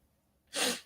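A single short sneeze bursts out close by after a moment of near silence.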